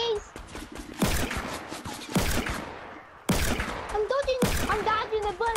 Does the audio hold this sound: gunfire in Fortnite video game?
yes